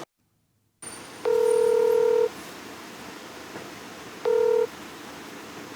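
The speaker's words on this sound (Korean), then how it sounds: "고객이 전화를 받지 않아 박 씨와의 연락은 결국 되지 않았습니다" Telephone dialing tones: two steady dual-tone beeps, a longer one followed by a shorter one, ring out clearly over a quiet background hiss. The line goes unanswered, with no voices present.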